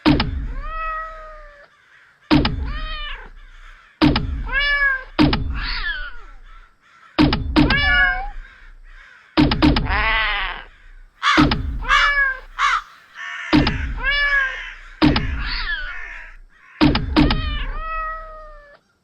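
A radio-play sound effect of cats being launched at crows: about nine sharp bursts, each pairing a thunk with loud cat yowls and harsh crow caws, spaced in a rough rhythm with brief silences between.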